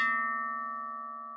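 A single bright bell chime rings out clearly and decays slowly, its pure tone lingering alone in silence.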